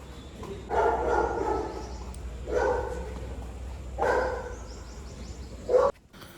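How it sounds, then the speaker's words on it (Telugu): A golden retriever barks in three separate bursts spaced about a second and a half apart, then gives one short final bark, heard at a moderate distance in quiet surroundings. "ఆ డాగ్ సౌండ్ వింటున్నారా? అది మా పక్కింటి వాళ్ళ డాగ్, గోల్డెన్ రిట్రీవర్."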